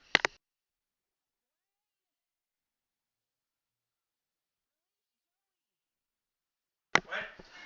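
A pet cat gives one short, close meow as it is let out a door indoors. A long silence follows, then a brief muffled voice or noise at the very end.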